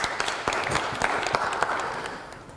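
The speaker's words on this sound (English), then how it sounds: "can you give my twin a round of applause, please?" Applause from an audience for a twin after a role-play, a steady wash of many hands clapping at moderate level with no talk over it.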